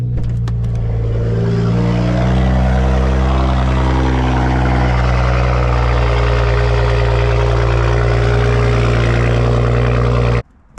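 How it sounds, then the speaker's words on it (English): A BMW engine cold-starts with a loud, close roar that settles into a steady, heavy idle and drones on for about ten seconds before it cuts off abruptly. "Let me get a little cold start for y'all."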